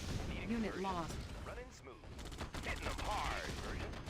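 Gunfire and explosions from the real-time strategy game Red Alert 2, with bursts of shots and blasts overlapping steadily through the clip, while someone talks excitedly over the battle noise.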